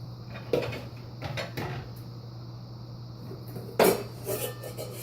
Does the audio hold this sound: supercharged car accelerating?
no